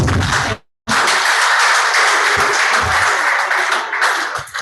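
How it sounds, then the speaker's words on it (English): Loud, dense audience applause fills a hall at a project dissemination event in Delta State, breaking off for a moment early on and then resuming steadily to the end. "Applause, please."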